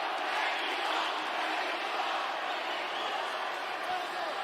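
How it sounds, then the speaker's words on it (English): A large arena crowd at a Budo 12 fight in Mexico City, cheering and roaring as a dense, continuous wall of sound, steady and moderately distant, with voices blended into the din. "Listen to the crowd."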